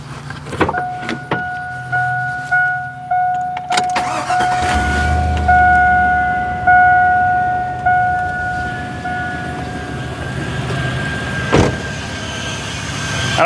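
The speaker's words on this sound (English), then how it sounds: "So let me start this up and let me turn the AC on." A car engine starts and runs in a driveway as the air conditioning is switched on during an A/C recharge, with steady tonal hums, a continuous engine rumble and a brief clunk near the end; no one speaks.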